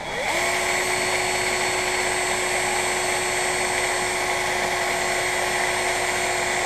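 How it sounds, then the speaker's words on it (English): A cordless drill spins up quickly, then holds a steady, high, buzzing whine throughout, used to wind old line off fishing gear. Close and continuous, with no voices. "Wrap it around on your cordless drill"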